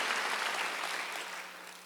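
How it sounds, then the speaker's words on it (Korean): A church congregation at a Wednesday worship service claps together in a full, dense burst of applause that gradually fades toward the end, with no talk over it. "깨달은 사람만 박수 한번 크게 쳐보세요."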